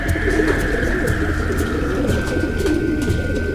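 Racing pigeons in a loft coo in soft, low, overlapping murmurs close by, continuous throughout over a steady background hum.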